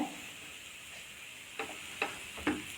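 A spoon stirs cabbage, capsicum, cheese and rice together in a pan, with a soft background sizzle and three light scraping taps near the end, quiet and close, with no talking.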